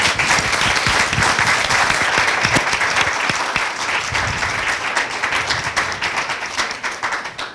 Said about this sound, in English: a big round of applause for our speakers, please